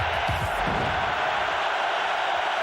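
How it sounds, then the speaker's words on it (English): A football stadium crowd at an NFL game between the Denver Broncos and St. Louis Rams roars in a steady, loud wall of noise, with a few low shouts rising near the start. "Crowd in full throat again"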